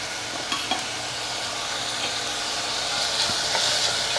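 Onion fries in a pan with salt and turmeric for a tomato, drumstick and cucumber curry, giving a steady close sizzle with a few stirring clicks and a slightly rising hiss toward the end.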